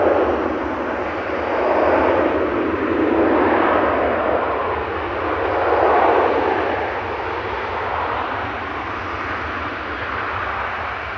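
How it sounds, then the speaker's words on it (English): A Ryanair Boeing 737-800 on flight 1946 from Memmingen, heard at Manchester Airport as a steady, fairly loud jet roar that swells and eases twice, alone with no talk. "Ryanair from Memmingen, of all places, flight 1946, EIDYO 737-800"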